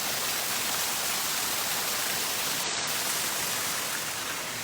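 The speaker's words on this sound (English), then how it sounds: "We're coming by the waterfall now, which is a really cool feature." Waterfall in a zoo's indoor rainforest exhibit, a steady broad rushing roar of falling water that stays even throughout, close and unbroken with no voices.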